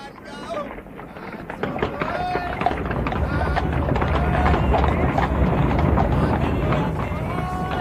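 Horses pull a carriage, their hooves clip-clopping in a steady rhythm against rumbling wheels and wind noise, with people talking over the movement.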